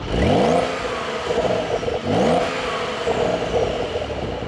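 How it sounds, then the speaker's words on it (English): A 2023 Porsche 911 Carrera T with its black sport exhaust and active exhaust revs twice in strong, rising surges, heard from close by with no talk over it. "Below the wing, we've got our exhaust tips, which you'll probably listen to from the outside."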